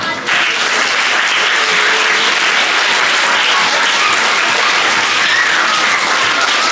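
Audience at a government upper primary school award ceremony for teaching excellence breaks into loud, sustained applause, a dense wash of many hands clapping that fills the room without pause.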